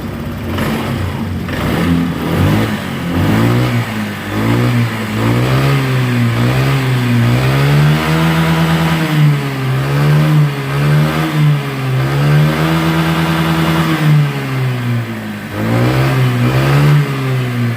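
Honda Click 125 scooter with an overheating fault tied to its water pump and radiator, its engine starting and then revving up and down repeatedly, rising and falling whines over a steady idle, close and loud, no talking.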